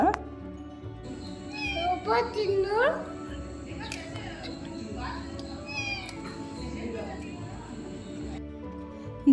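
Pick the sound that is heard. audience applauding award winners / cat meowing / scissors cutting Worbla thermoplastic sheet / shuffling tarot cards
cat meowing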